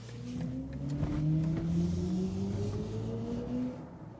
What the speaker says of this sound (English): there's also an acoustic feedback when pushing the throttle.